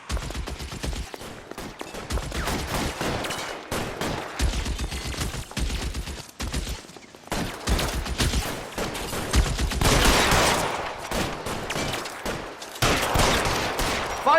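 Dense gunfire erupts right after an order to open fire, a sustained fusillade of overlapping shots and automatic bursts that stays loud and dense throughout with brief gaps.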